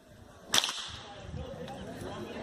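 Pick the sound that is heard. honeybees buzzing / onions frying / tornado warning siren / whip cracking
whip cracking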